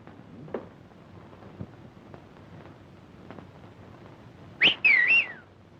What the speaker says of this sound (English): Here of late, the birds have been starting to whistle just like you.